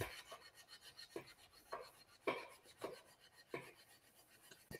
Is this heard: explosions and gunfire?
no